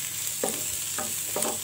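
Yam frying in a pan with turmeric, stirred as it cooks: a constant bright hiss of hot oil close by, with three soft scraping stirs of a spoon.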